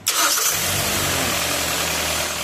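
A 2016 Hyundai Tucson engine cranks and catches, then settles into a steady, loud idle that holds without a break.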